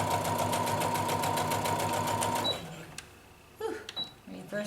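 A sewing machine stitching a tank top runs in a steady, rapid mechanical hum for about two and a half seconds, then stops, leaving faint handling clicks and light rustling close by.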